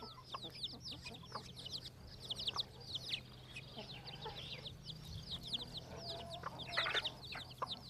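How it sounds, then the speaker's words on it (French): A hen clucking as she leads her chicks around a farmyard, with many high chirps from the chicks throughout and a low steady hum beneath, moderately near, with faint talk in the background. "la poule emmène ses poussins dans la cour de la ferme"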